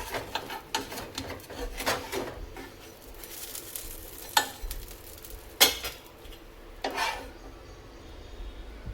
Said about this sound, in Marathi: ब्राऊन असा कुरकुरीत होईपर्यंत तव्यावर राहू द्यायचा.